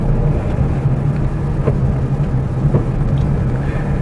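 A car driving along with a steady low engine drone and road rumble as it shifts into fourth gear, moderately loud and close, with no talk over it.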